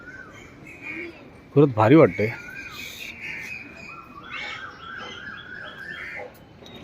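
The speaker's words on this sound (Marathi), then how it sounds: "पक्ष्यांचा बघा आवाज" Crows caw loudly and close along Mumbai's elevated nature trail walkway, a short burst of harsh calls followed by scattered fainter bird chirps, with people talking over the outdoor ambience.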